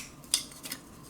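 Wooden chopsticks slide out of a paper wrapper with a faint, brief papery crinkle and a couple of light clicks in a quiet room.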